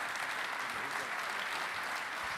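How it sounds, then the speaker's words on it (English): An audience at a baseball talk event featuring Carlton Fisk applauds two guests in a steady, evenly sustained round of clapping, with no voices standing out above it. "Fans, let's have a nice round of applause for our two guests."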